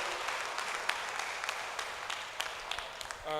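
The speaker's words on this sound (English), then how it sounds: "we need to give all of you a big hand of applause" An audience at a public hearing on a railway safety bill in Botshabelo applauds with dense, continuous clapping throughout, and a few sharper claps stand out before the sound fades near the end.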